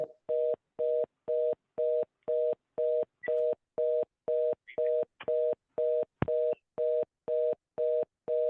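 After a dropped call, a telephone line gives a pulsing signal tone: about sixteen identical short beeps, evenly spaced, clear and steady, with no talking.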